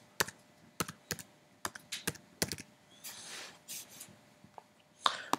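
Clicks of a computer keyboard as a forum post is typed, irregular bursts of keystrokes with short pauses and a few clattering runs, close and fairly quiet.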